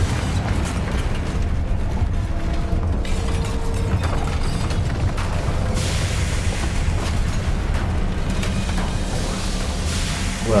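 Confringo blasting spell explosions in the Hogwarts Legacy video game, loud booming impacts and crackling debris that rumble continuously through a dense combat soundscape.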